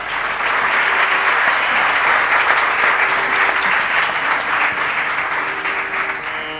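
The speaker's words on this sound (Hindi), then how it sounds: "इस मनीषी का, इस वयोवृद्ध कलाकार का पुरजोर तालियों से आप स्वागत करें" An audience at a Hindustani classical vocal concert gives sustained, loud applause to welcome an elderly performer, a dense wash of clapping that holds steady throughout and tapers slightly at the end.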